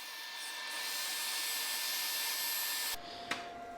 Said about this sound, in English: it's a little faster to power sand, so that's the route I decided to go